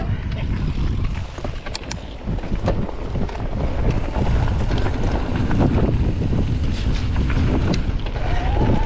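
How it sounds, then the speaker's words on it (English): Strong wind buffets a hilltop viewpoint, roaring steadily into the microphone with gusty rumbles and a continuous rushing hiss across the whole stretch. "Don't know if you can hear me over the wind"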